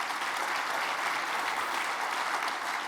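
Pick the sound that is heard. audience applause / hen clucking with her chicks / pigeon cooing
audience applause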